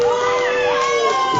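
Fans cheering and shouting at an IWC wrestling match in Clearfield, a loud, continuous crowd roar with whoops and voices from start to finish.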